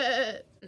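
A person's voice imitates a goat bleating, giving one short wavering bleat with a quick quieter sound at the end, close and clear.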